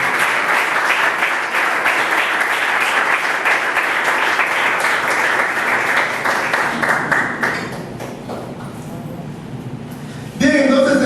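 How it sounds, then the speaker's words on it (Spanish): Congregation at a Pentecostal evangelical church service applauding loudly in a sustained, dense burst for about seven seconds, then thinning out and fading, with a voice speaking over the tail end. "Denle un fuerte aplauso."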